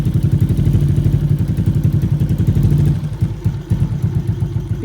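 A rebuilt Yamaha Exciter 135 motorcycle engine with a 62mm bore kit and CNC camshaft runs steadily up close, loud and chugging with a rapid mechanical clatter, then the rhythm loosens and dips after about three seconds.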